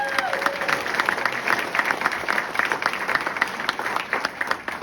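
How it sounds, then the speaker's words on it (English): A banquet audience at a Southern California sports broadcasters hall of fame event applauding steadily, dense clapping from a mid-sized crowd that stays loud throughout. "One more round of applause for Pepe."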